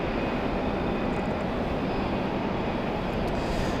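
An Endeavor Air flight arriving in the rain, its engines a steady broadband roar mixed with rain noise, loud and continuous throughout with no talk.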